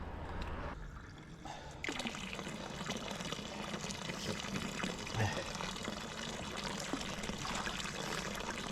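Fresh-water village fountain running, a steady close splashing and trickling of water that continues without pause, with faint background ambience.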